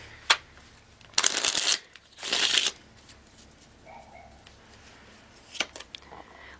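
Tarot cards are riffle-shuffled close by in two quick crisp bursts, with a few soft taps and card snaps before and after in an otherwise quiet room.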